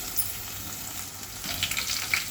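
Curry leaves, onion and green chillies frying in hot oil with cumin for a ridge gourd curry, a close, steady crackling sizzle with brief sharper pops, no voices.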